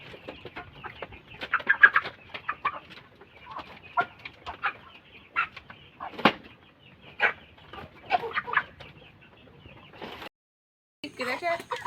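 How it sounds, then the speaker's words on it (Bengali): Chickens clucking and squawking in a crate being loaded for market on a muddy, rainy day, with brief rustles and flaps; close and fairly loud in irregular bursts, with a short silent gap near the end. "কেরেট ভরে নেই দেখো, কাদার মধ্যে কীভাবে মুরগি নিয়ে যেতে হয় আমাদের।"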